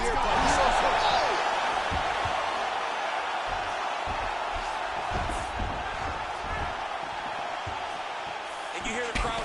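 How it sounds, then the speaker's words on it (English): In a boxing video game, a dense crowd roars and murmurs continuously, swelling with each exchange of punches, while thuds of blows land and a commentator talks over it. "you hear the crowd react every time they come together"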